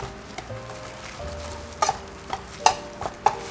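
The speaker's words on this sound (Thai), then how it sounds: "ทีนี้เราทำการคลุกเคล้าแป้งให้เข้ากันก่อนนะครับ" Soft scraping of flour being stirred with seasoning powder in a bowl, with a few sharp utensil clicks against the bowl near the end.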